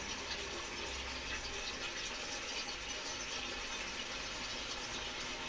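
Steady rushing hiss of water filling a container for storing potatoes, continuous and even for several seconds with no voices.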